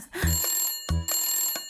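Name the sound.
telephone ringing in a cartoon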